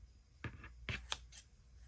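Kitchen scissors open and close a few times, producing crisp swishing and snipping strokes close up in a quiet room, with no talking.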